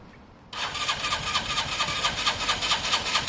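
A rusty Chinese Keeway motorcycle engine catches and starts abruptly, then settles into a steady, fairly loud idle with a rough, pulsing rhythm; no talking.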